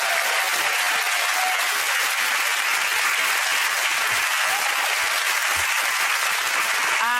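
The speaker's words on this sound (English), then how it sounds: "get that round of applause to Ed, Sara and Andy." Studio audience at a British comedy panel show breaks into sustained, loud applause that fills the room steadily from start to finish, with no talking over it.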